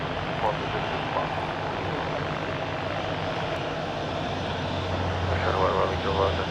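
An airliner's engines drone steadily on the runway at windy Madeira Airport, a constant loud roar with faint voices underneath.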